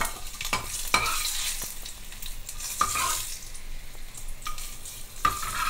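Cumin powder stirred into hot oil in a pan while making a simple pulissery, a steady sizzle with repeated scraping strokes of a spoon across the pan, close and moderately loud, no voices.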